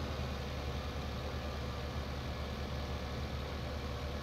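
Steady, even engine drone of a tractor in a farming video game, running at a constant pace with no talk over it.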